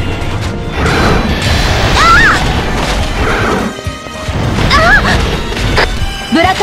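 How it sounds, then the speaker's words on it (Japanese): A long-range artillery bombardment in God Eater 2 brings repeated heavy crashes and booming impacts, loud and dense, mixed with bright chirping game effects and no speech. "警告、長距離からの砲撃です"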